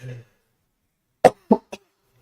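Three short, sharp coughs come in quick succession after a faint murmur and a pause, close and fairly loud, with silence between them.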